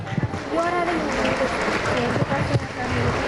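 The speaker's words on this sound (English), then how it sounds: "why don't you all give a round of applause to your teachers?" An audience at a high school prize distribution ceremony claps for the teachers, a crowd's scattered applause mixed with voices and shouting from people nearby.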